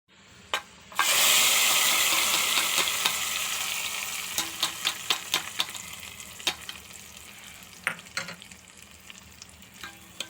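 A sudden loud sizzle as tempering spices hit hot oil for dal, slowly fading while sharp crackles and pops burst out irregularly throughout.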